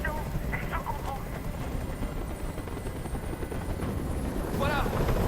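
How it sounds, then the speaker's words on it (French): A helicopter hovers nearby in the video game Detroit: Become Human, its steady low rotor thrum running throughout while voices speak over it in short bursts. "Je peux plus supporter ce bruit. Fais dégager cet hélicoptère"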